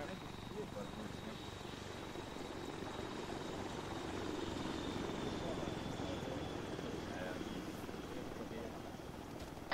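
A continuous low rotor thrum and engine drone from a helicopter in the video game ArmA 3, steady and unbroken, at a moderate distance, with a faint whine running above it.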